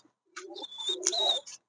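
Lahori pigeons coo close by: one soft, rolling call with a warbling, throaty quality and a brief high chirp, heard alone against a quiet background.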